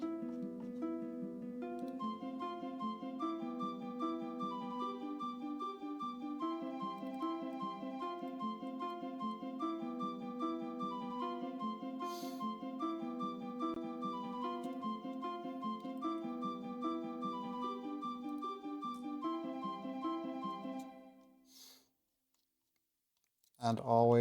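An orchestral cover plays with harp harmonies, sustained chords and a constant plucked harp figure moving through steady changes for about twenty seconds before fading to silence, then a sudden burst.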